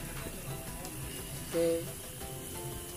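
Tempe mendoan and fried chicken frying at a campsite in the forest on Gunung Bunder, a steady, soft broadband sizzle running throughout with a brief brighter tone midway.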